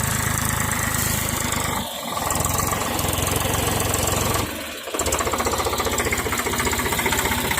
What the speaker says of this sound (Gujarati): આપણું ભાઈ ટ્રેક્ટર લઈને આવી ગયો છે